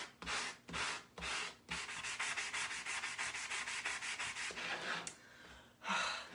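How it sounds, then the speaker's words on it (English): Repeated scratchy rubbing of a sanding sponge on wood, short strokes at first, then a long continuous stretch of sanding, close and fairly loud. "Chewed that sanding sponge up."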